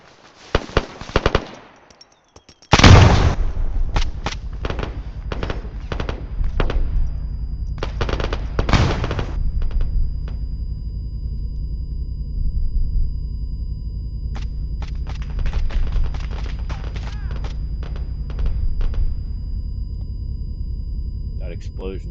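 Loud, close explosion in the video game Arma 3, followed by rapid bursts of automatic gunfire in several clustered volleys with quieter gaps, and a steady low rumble underneath throughout.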